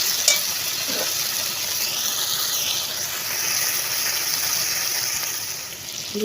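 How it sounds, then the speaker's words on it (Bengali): Pabda fish with ridge gourd and eggplant in a hot pan, a steady close sizzle and hiss with faint soft stirring, no voices. "তারপরে আমি একটু নাড়াচাড়া করবো"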